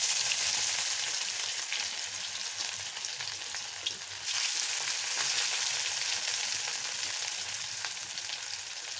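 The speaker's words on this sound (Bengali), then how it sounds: "তেলটা ভালোভাবে কিছুক্ষণ গরম করে নেওয়ার পর আমি মাছের পিসটা দিয়ে দিচ্ছি।" Pieces of katla fish fry in hot oil, a dense continuous sizzle filling the whole stretch, close and fairly loud, shifting slightly partway through with no voices.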